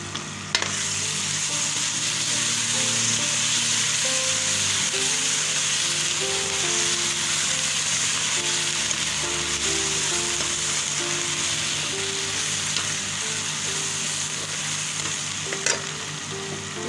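Steady sizzling and crackling of garlic ginger paste frying in a hot pan, with occasional stirring scrapes, continuous throughout and fairly close.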